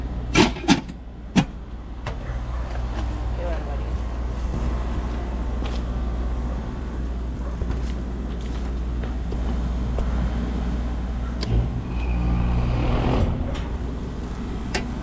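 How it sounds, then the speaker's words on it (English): A hot, recently failed home air conditioner's compressor and condenser fan motor starting up, a few sharp clicks at first, then a steady low mechanical hum and whir that continues at moderate loudness, no speech. "I think I heard both the compressor and the fan motor come on."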